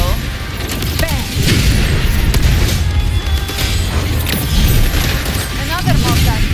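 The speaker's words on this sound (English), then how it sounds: "Another mortar thrown at us." Mortar blasts in the action game Wuthering Waves boom repeatedly amid clanking mechanical combat effects, loud and dense, with voices talking over the din.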